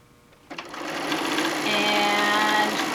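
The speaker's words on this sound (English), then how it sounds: "We'll get stitching." A sewing machine starts abruptly and runs continuously, close and loud, stitching quilt fabric pieces together.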